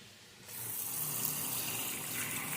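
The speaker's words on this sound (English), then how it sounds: "and I'll add water to it." Water pours into a container to make a drink with tea bags, a soft steady rush that starts suddenly after a quiet moment and keeps going, fairly faint and heard alone.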